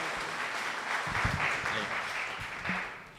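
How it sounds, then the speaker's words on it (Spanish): Audience applause at a car hacking security conference, a dense steady patter of clapping from the crowd across the whole stretch, easing slightly toward the end. "Les presento a Daniel Erazo, por favor un fuerte aplauso para él."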